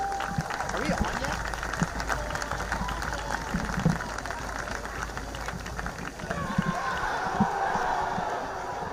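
Spectators applaud and cheer in the stands at a Canton versus Bedford boys varsity high school football game, a steady wash of outdoor crowd noise that never lets up, with talk mixed in.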